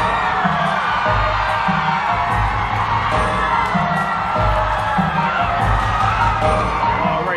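A festival crowd at the Sabah Harvest Festival cheers and whoops for a contestant in a pageant, a dense, sustained roar of voices with shouts over a steady rhythmic beat in the background.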